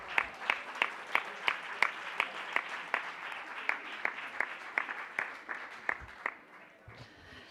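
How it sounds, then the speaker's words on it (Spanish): Steady applause from a crowd, with sharp individual claps standing out in a quick, even rhythm before it fades away at the end. "Un aplauso"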